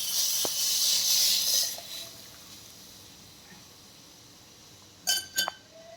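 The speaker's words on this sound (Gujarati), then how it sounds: "જુઓ હવે ઢાંકણ ખોલી અને બધી જ દાળ એમાં આપણે નાખી દઈશું" A pot lid is handled and dal is added to a hot tempering for dal bhat. A bright sizzling hiss fills the first couple of seconds, then it goes quiet before two quick metallic clinks near the end.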